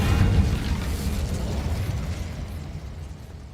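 Incendio fire spell cast in Hogwarts Legacy, a loud fiery burst at the start that rolls into a sustained rumbling roar, slowly fading over a few seconds with no talking.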